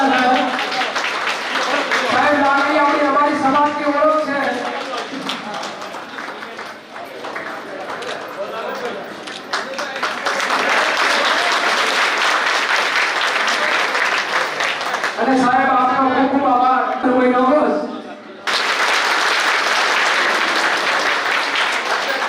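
Audience applause at a library inauguration ceremony in a village, sustained loud clapping that rises and falls over several seconds, with voices speaking through parts of it.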